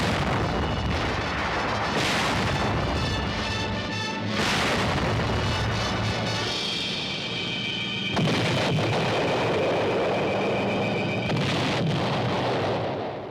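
Artillery fire and air bombing at Troina, Sicily, heavy booms and crashing blasts in quick succession over a rumbling, noisy battle din.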